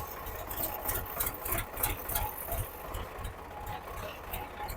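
An old tractor without power steering runs with a steady, rapid low chugging pulse, fairly faint and continuous, with faint clatter and no talk over it.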